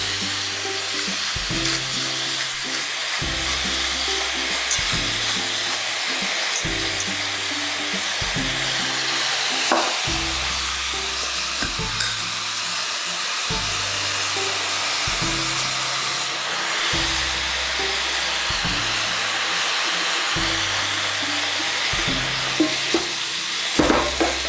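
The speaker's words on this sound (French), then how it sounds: "Donc moi mes poivrons, après je vais les frire dans de l'huile." Bell peppers frying in oil in a home kitchen, a steady loud hiss and sizzle running throughout over a repeating low hum, with no talking.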